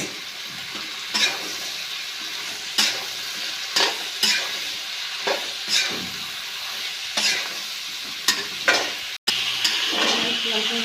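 Vegetables for mola fish chorchori, drumsticks, brinjal, potato and bitter gourd, stirred in a sizzling pan, with repeated scraping strokes of a spatula every second or so over a constant frying hiss.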